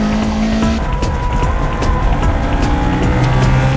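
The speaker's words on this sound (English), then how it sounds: "In the tight corner section, Orito's thrown off rhythm by Dori Dori's fast pace and pays for it with understeering." Race cars corner hard through the tight section of a mountain pass in a 2WD versus 4WD touge battle, engines roaring loudly and continuously with tires squealing, no voices heard.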